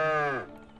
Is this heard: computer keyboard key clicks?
no